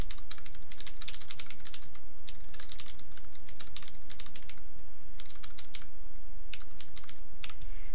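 Rapid clicking keystrokes on a computer keyboard come in quick bursts and short runs over a constant low background hum, close and clear, without speech.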